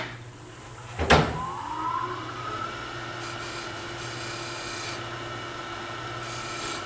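On a wood lathe, a tool cuts a recess into a spinning wooden bowl lid, opening with a sharp scraping bite and then settling into a steady whirring hum with a rising tone, close and moderately loud, with no talk.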